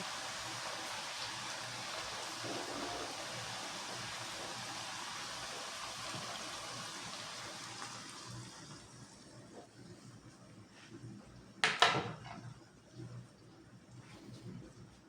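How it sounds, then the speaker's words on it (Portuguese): Water pours steadily into a small bowl in a home kitchen, a soft continuous splashing that fades after several seconds, followed by a few quiet clinks and knocks. "nessa vasilhinha, eu vou pôr água"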